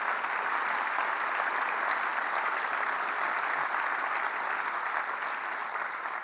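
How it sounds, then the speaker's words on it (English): A room full of attendees at an Ontario government economic address claps in a dense, continuous wash of applause, even and sustained from start to finish with no voices on top. "So give yourselves a big round of applause."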